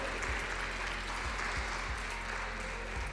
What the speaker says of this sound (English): can we please have one more round of applause for Clawz?